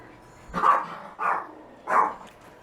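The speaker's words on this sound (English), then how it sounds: "My dog's barking at the neighbors" A pet dog barks at the neighbors inside a home kitchen, three loud separate barks spaced about half a second apart, close by and alone with no talking.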